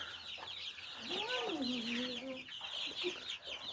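Turkey chicks and poultry on a farm give soft clucks and a rising, wavering call, with continuous high chirping peeps over low background noise, moderately faint and close by.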